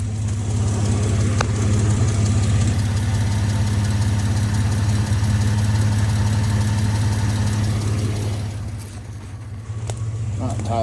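A 2001 Dodge Dakota pickup engine idling with a suspected exhaust manifold gasket leak, a steady close rumble with a faint ticking texture that continues for several seconds before a brief dip near the end.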